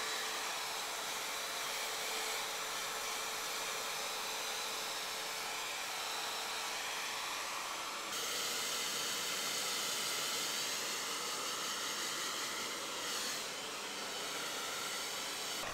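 A FoxyBae hair blow dryer running on its maximum setting gives a loud, steady rush of airflow noise that lasts throughout, and its intensity rises slightly partway through.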